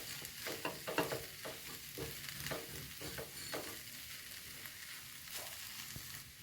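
Chicken roll filling is stirred in a frying pan, the chicken mixed through the cooking filling with repeated scraping stirs over a steady sizzle, close and moderately loud, with no talking.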